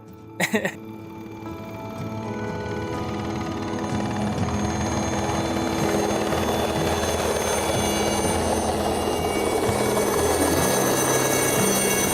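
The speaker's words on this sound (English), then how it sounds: "just waiting for the choppers to come" A helicopter arriving at a remote mountain base camp near Carstensz Pyramid, its rotor and engine noise swelling from near silence into a loud, steady, throbbing roar that dominates the scene after a brief clatter at the start.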